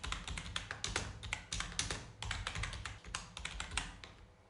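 Quick, uneven clacking of computer keyboard keys, close and fairly quiet, with short pauses between bursts of typing and no voice.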